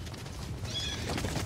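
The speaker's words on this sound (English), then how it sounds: "That's the sound of horses galloping and squealing and a horse and a dolphin in heat." A horse squeals and whinnies over a rumbling, busy stampede background, a short shrill cry in the middle of the clip; a Jurassic Park film sound effect.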